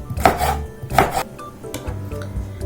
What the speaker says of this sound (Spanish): Así picamos toda nuestra piña